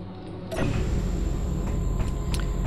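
A door mechanism in the Space Engineers video game opens with a sustained mechanical creak and hum, steady and fairly close, with no voices.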